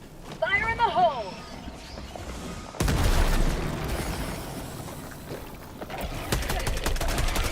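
In Helldivers II, a sudden loud grenade blast erupts after a short pause and rolls into a dense, continuing rattle of battlefield gunfire, with voices heard early on.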